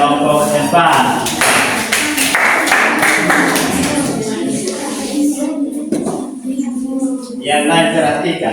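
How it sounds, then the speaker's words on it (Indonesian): Clapping from a classroom audience breaks out for a student group, a dense burst of hand claps that fades out midway, with a teacher's voice talking over it and again after. "Kita berikan aplaus buat kelompok yang 4."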